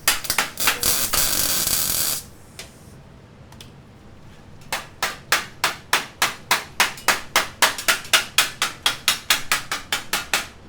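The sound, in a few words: welding metal for a helmet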